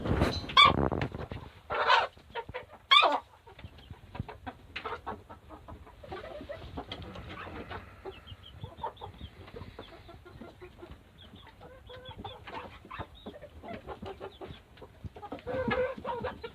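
Chickens clucking and squawking near a newborn calf, a few loud close calls at the start, then softer scattered clucks and rustling over a quiet background.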